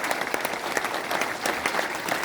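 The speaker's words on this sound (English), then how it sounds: "Let's stand for the governor and let's clap for him." An audience at a university innovation week event gives the governor a sustained round of applause, an even, dense clapping that holds steady from start to finish.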